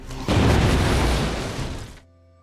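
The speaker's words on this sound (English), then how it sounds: "this practical courtyard explosion feels visceral and powerful." A practical explosion set off in a courtyard for the action film Gemini Man, a loud, close, sustained blast that bursts in abruptly, roars for nearly two seconds and then cuts off.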